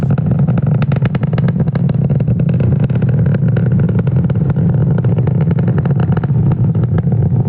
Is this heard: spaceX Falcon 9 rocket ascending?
yes